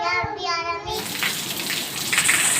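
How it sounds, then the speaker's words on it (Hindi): Rain begins falling: after a brief voice at the start, a dense, even hiss of rain takes over and continues steadily, fairly close and moderately loud. "ये हो गई हमारी बारिश स्टार्ट और इसकी आवाज़ आप सुनिए"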